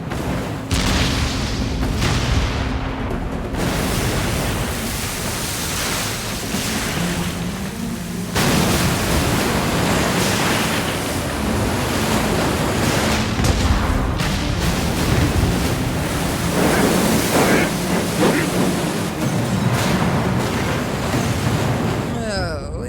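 Ship cannons firing in a pirate game set in Hawaii, deep booming blasts rolling over a constant wash of sea and battle noise, loud and sustained, with speech mixed in.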